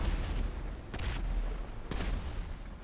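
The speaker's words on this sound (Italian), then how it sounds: "quanto in là si sentono le esplosioni?" Gunfire and explosions in a video game make a dense, continuous roar, broken by two sharper blasts about a second apart, close and loud with no speech.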